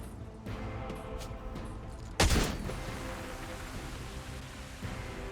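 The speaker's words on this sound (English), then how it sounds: "I don't know how big the gas explosion is" A gas grenade goes off in the Warhammer 40,000: Rogue Trader video game: one sudden loud burst of noise, then a fading wash over steady game ambience, with no talk.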